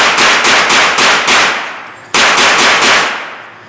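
Rapid-fire gunshots at a shooting range crack out in two quick strings, about five shots and then three, loud and close with ringing decay.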